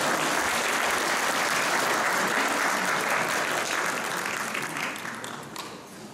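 A large audience at a Korea University 113th anniversary ceremony bursts into sustained, dense applause to welcome the foundation chairman, holding steady for several seconds before gradually thinning toward the end.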